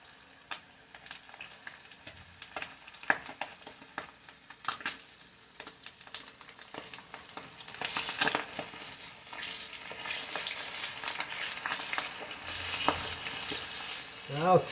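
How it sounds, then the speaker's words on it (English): Chicken legs fry in an old greasy pan, a steady close sizzle with scattered pops and crackles that swells louder and denser as more pieces are laid in, with occasional scraping and no talk. "we'll gradually just lay them down in that old greasy pan"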